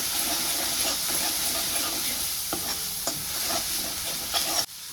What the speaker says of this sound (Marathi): तर हे मसाले छान असे तेलामध्ये मिक्स करून घेते